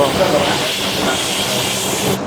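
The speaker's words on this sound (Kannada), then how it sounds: "ಕುಕ್ಕರ್ ಕುಕ್ತಾ ಇದೆ ಆ ಸೌಂಡ್ ಜಾಸ್ತಿ ಬರುತ್ತೆ" Loud, continuous hiss of steam forcing out of a pressure cooker, steady and close, cutting off abruptly near the end.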